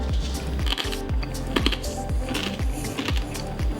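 Crispy pork belly skin crunches loudly and close up as it is chewed, a rapid series of brittle cracks and crackles with no talking.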